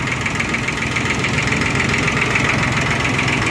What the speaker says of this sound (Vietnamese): Đây động cơ 3 máy đang hoạt động.